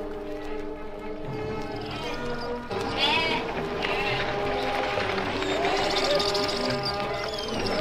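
Sheep bleat repeatedly in a dramatized scene of herded livestock, several loud wavering calls layered over one another with a busy crowd-like background.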